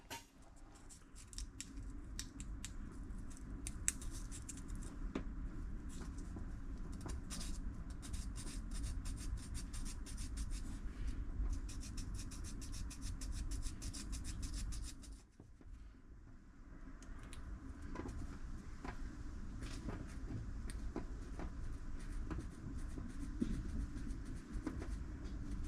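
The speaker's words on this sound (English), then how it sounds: "I've just made up a little folded strip of wet and dry paper just to slide inside those spade contacts and just try and clean them up" A folded strip of wet and dry abrasive paper is worked inside the spade contacts of a classic Mini Cooper's sender unit, giving a faint, continuous close scratching and rubbing with a short break midway and no talking.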